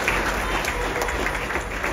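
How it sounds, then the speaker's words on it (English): Guests at a wedding ceremony applaud in a steady, dense wash of clapping that fills the room close by, sustained evenly from start to finish without any clear voices standing out. "Give a round of applause for Guruji."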